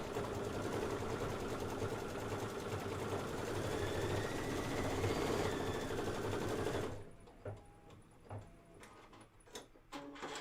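A Brother 10-needle embroidery machine stitches purple dot details, a steady dense mechanical whirr for about seven seconds before stopping, leaving scattered quieter clicks and knocks.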